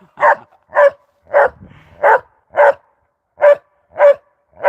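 A puppy barks loudly and close up, eight sharp, evenly spaced barks with brief gaps and a faint whine between two of them, no other voices.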